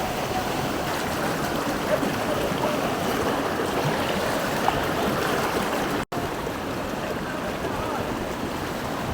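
Hill stream water rushing steadily over stones near Utmachora in Sylhet, a dense continuous wash of flowing water close by with no voices, broken only by one very short dropout.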